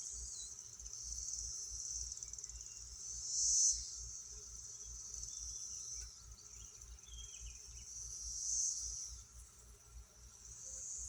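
Steady honey bee buzzing fills the air around flowers, with a couple of louder passes as a bee flies close, over a soft rhythmic background drone.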